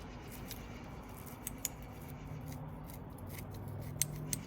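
Scissors trim a tube fly at close range, repeated quiet crisp snips spaced irregularly against a soft background hiss.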